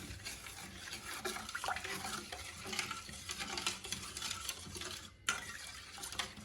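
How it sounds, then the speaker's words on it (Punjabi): Mint sharbat being stirred after lemon juice and black salt go in: continuous swishing and clinking of a spoon in liquid, close and fairly quiet, with a brief pause near the end. "ਇਹਨੂੰ ਆਪਾਂ ਚੰਗੀ ਤਰ੍ਹਾਂ ਮਿਕਸ ਕਰ ਦਵਾਂਗੇ"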